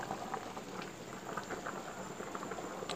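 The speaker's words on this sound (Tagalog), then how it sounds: "hintayin na natin na kumulo" Chicken tinola soup with native chicken, sayote and chili leaves bubbles in a pot at a steady rolling boil, a dense continuous patter of small pops and fizzing, moderately close and alone.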